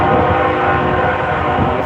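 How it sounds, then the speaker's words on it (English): BNSF intermodal double-stack freight train rumbling past loudly and steadily, a continuous heavy roar throughout. "Looks like it's an intermodal, double stack Z train maybe."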